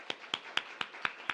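Church congregation clapping in unison, six crisp evenly spaced claps at a steady rhythm, fairly close and clear.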